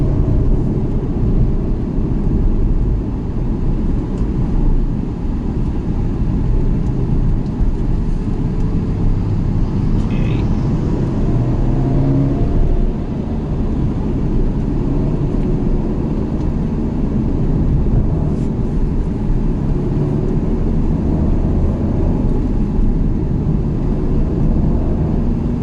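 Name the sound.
Ferrari GTC4Lusso T V8 engine driving uphill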